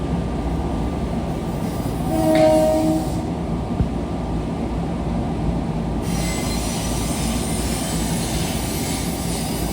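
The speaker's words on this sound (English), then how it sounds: "Train of Port Jefferson now arriving on track 4." An LIRR train bound for Port Jefferson pulls into Jamaica station during the evening rush, with a steady low rumble of rolling cars and a brief squeal of wheels rising near the start over continuous platform noise.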